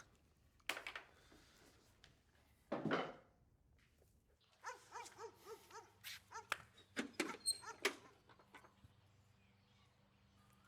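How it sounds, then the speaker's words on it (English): A dog makes scattered soft sounds, a few short yelps and a run of quick whimpering and sniffing noises, fairly faint and close in a quiet room. "Hi, doggy."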